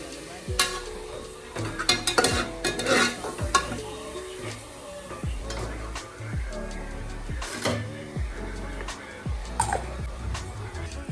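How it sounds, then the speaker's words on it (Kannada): Mutton gravy masala frying in oil in a pan, with a spoon scraping and stirring in irregular bursts of clatter over a soft, steady sizzle, close and moderately loud. "ಎಣ್ಣೆ ಬಿಡೋವರೆಗೂ ಚೆನ್ನಾಗಿ ಫ್ರೈ ಮಾಡ್ಕೊಳ್ಬೇಕು"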